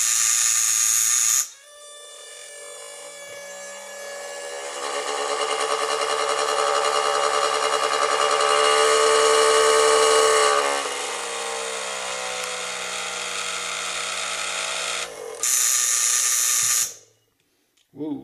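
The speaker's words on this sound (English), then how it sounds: "if I apply pressure to this buzzer while it's running, the voltage increases, the power increases, and the motor starts spinning" An electric buzzer relay pulses in a Hendershot-style fuelless generator rig. It gives a continuous harsh, droning buzz that starts abruptly, grows louder midway, then cuts off after about fifteen seconds.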